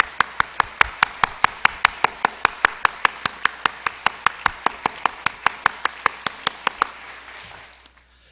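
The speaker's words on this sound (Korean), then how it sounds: "박수하겠습니다." Rhythmic unison clapping in a church congregation welcoming a visiting family, steady sharp claps at an even pace for about seven seconds before stopping, fairly loud and close with no talk over it.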